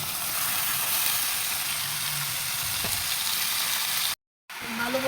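Pieces of liver hit a pan of fried ginger, garlic and onion paste, giving a steady, close sizzle and hiss of frying that runs almost throughout, cut by a brief silent gap near the end.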